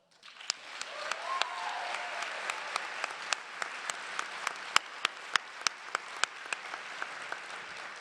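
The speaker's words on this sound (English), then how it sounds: "I ask that my classmates help in applauding you." Commencement ceremony audience applauding in a large hall, a broad sustained wash of clapping with sharper individual claps punctuating it near the microphone, rising quickly and holding steady for several seconds.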